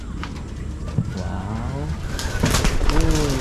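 Pigeons coo softly in a series of low, rolling calls from nearby birds, heard over steady background noise with a brief exclamation from a person.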